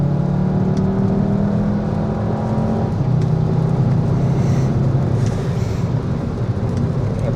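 A Volkswagen Jetta GLI with a DSG gearbox accelerates from the driver's seat, a steady engine drone rising in pitch with road and wind roar, continuous and fairly loud, with no talking.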